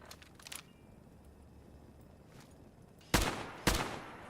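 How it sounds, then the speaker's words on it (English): Assault rifle gunfire in the video game Fallout 4, a couple of sharp loud shots near the end after quieter bursts earlier, with no talk. "Maybe I should switch to my assault rifle."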